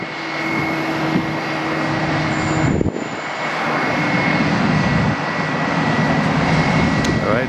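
A Boeing 717 jet at a busy airport roars with a steady, loud engine rumble and a high whine that drones on for several seconds, a brief dip midway, no voices.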